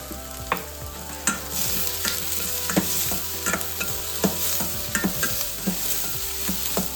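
Sliced onions frying in a pan with curry leaves and salt, a steady close sizzle broken by repeated sharp scrapes and taps of a stirring spoon against the pan.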